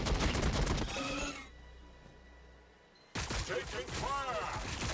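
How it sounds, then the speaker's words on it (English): Rapid gunfire crackles in the Warhammer 40K Battlesector strategy game, dense bursts at the start, a quieter lull, then another loud barrage with a voice talking over it. "Taking fire."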